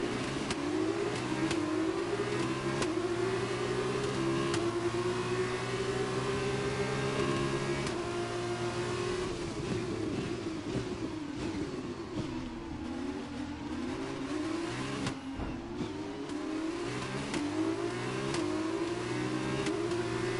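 F2 race cars scream away from the start at Monza in F1 2021, engines revving hard through rising gear changes, several cars droning together loud and close for the whole stretch.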